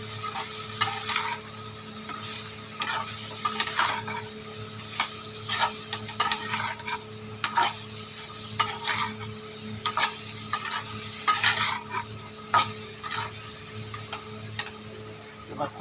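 Curry masala is stirred and fried in a pan. A spoon scrapes and taps against the pan in irregular strokes over a soft steady sizzle and a low background hum, heard close with no talking.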